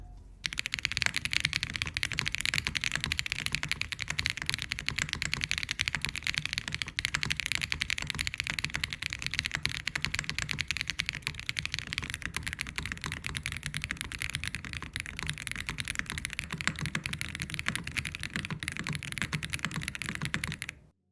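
Steady, fast typing on an Aeroboard70 mechanical keyboard with its PCB cuts taped over, a dense run of close clacky keystrokes lasting throughout with no talking.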